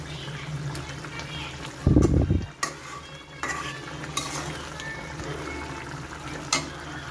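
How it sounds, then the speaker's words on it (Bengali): Gentle stirring in a cooking pan of goose curry garnished with coriander leaves, with soft scraping and a light sizzle, one brief louder clatter of utensil against pan, and quiet talk around it. "এরপর আলতো করে একটু নাড়িয়ে ছড়িয়ে দেবো"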